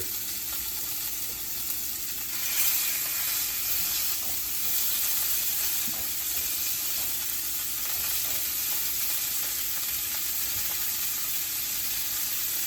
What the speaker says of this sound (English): We're gonna take our steaks and push it and push down to get some of that good sear.